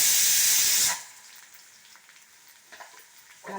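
Garlic sizzles loudly in hot oil while being tempered for a village-style mango, brinjal and greens masiyal, a dense frying hiss that cuts off abruptly after about a second, leaving faint clinks and small stirring sounds.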